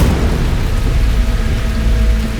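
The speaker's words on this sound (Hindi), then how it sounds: "वर्षा, ये तो अशुभ संकेत है।" Steady rain pours down in a dense, continuous wash with a low rumble of thunder underneath, loud and close throughout a dark night scene, with no voices.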